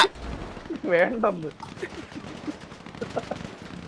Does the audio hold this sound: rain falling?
no